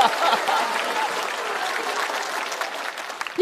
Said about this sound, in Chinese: 而且就是磅礴的掌声